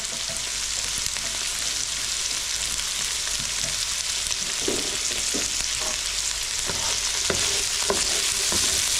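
Tofu frying in a pan while a cornflour mixture is stirred in, giving a steady, loud broadband sizzle with scattered scraping clicks of the utensil toward the end, no voices.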